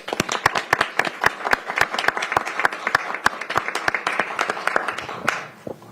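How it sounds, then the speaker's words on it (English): Applause from a council meeting audience, a dense run of sharp hand claps in steady rhythm lasting several seconds, then thinning out and fading near the end, with no talk over it. "Let's give them a round of applause"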